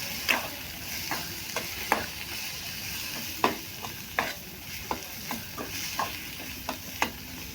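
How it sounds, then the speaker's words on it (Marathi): Egg bhurji with coriander is stirred in a hot pan, a soft steady sizzle broken by repeated scraping and tapping of the spatula at irregular intervals, close and without talk. "आता हे एकसारखं परतून घ्यायचं आहे।"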